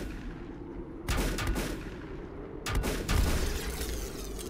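Gunshots in the video game Volcanoids: two loud, booming blasts about one and a half seconds apart, each with a rumbling tail, over a constant low droning background.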